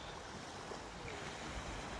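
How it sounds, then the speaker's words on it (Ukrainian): Sea waves wash steadily onto a sandy beach in Odesa, a continuous broadband surf roar with light wind, fairly soft and with no voices. "тиша, звуки моря"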